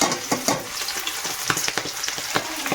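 Onions and cumin sizzle in a hot pan, giving a continuous bright frying hiss broken by repeated stirring scrapes and crackles, close and fairly loud with no talking.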